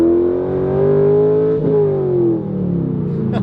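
Heard from inside the cabin of a C5 Corvette Z06, the exhaust revs up in a loud, droning, resonant roar, briefly dips, then settles back into a steady growl.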